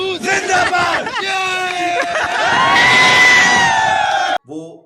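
A large crowd of students cheers and shouts together, loud and close, with overlapping whoops and chant-like yells that swell in the middle, cut off abruptly, and then a brief burst follows.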